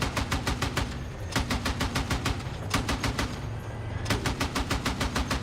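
A video game machine gun fires in three rapid, sharp bursts, each a steady stream of loud cracks separated by brief pauses.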